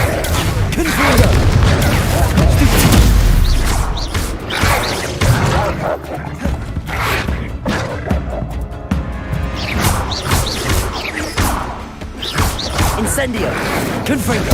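Confringo blasting curses fired in Hogwarts Legacy combat, loud booming spell impacts and crashes recurring through a dense battle mix, with shouted voices in the fight over the blasts.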